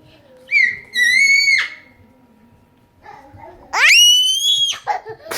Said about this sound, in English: All right, that's enough screaming.